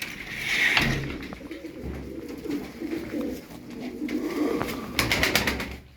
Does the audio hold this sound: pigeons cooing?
yes